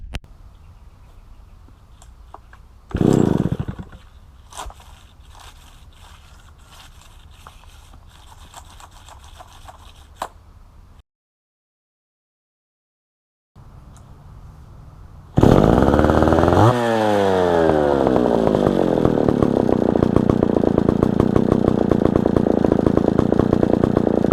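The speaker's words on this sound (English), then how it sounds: "now with both of these saws running pretty well" Echo 601SVL and 452VL chainsaws run loudly in turn: first a steady idle with a brief rev, a short silence, then a saw starts and revs up into a sustained, loud roar that holds to the end.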